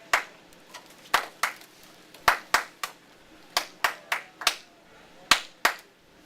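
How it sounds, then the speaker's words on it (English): A Rotary club audience claps in unison as a group clap routine, sharp sparse hand claps in irregular bursts of one, two and three, with quiet pauses between. "he developed a clap called the Happy Clap for Light Up Rotary"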